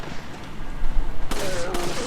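Gunshots ring out in Resident Evil 4 as enemies are shot down, a couple of sharp loud cracks near the end over a low game ambience and a faint tonal background.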